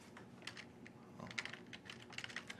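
Quick keystrokes on a computer keyboard as a file name is typed, a close, quiet patter of irregular clicks running steadily throughout.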